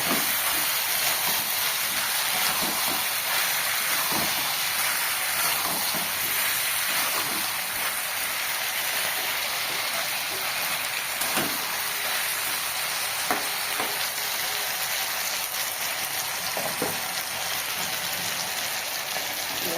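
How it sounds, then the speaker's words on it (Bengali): Soy sauce hits a hot pan and sizzles, a steady loud frying hiss with faint crackles that holds evenly for the whole stretch, with no talking. "এবারে দিয়ে দেবো সোয়া সস।"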